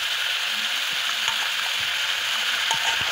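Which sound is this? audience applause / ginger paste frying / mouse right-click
ginger paste frying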